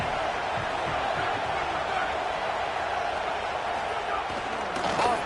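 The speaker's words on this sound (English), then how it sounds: "the home crowd going absolutely bananas" The home crowd at an LA Tech versus LSU college football game roars loudly and continuously as a dense, sustained wall of cheering, with a voice talking underneath.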